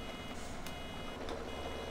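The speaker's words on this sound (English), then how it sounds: "Lift that up and listen to the beep, beep, beep, beep, beep, beep, beep." A farm vehicle in Farming Simulator 17 emits steady, rapid reversing beeps at an even rhythm, fairly quiet over a constant engine hum, with no talk.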